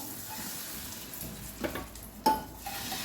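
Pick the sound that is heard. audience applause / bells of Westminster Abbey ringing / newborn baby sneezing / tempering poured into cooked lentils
tempering poured into cooked lentils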